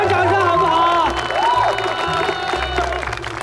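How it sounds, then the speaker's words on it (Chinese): Wedding guests at a banquet hall give a burst of clapping and cheering under a stretch of music, the crowd noise loud and close. "来一点掌声好不好？"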